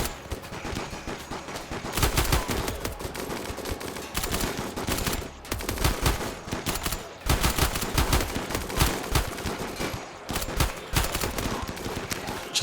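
Turrets fire continuously in a RimWorld battle among ruined vehicles, giving dense, loud volleys of rapid gunshots with brief dips, and no talk over them.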